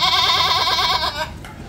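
An Osmanabadi dairy goat at a Mumbai goat market bleats in one long, loud, wavering cry close by, fading out toward the end.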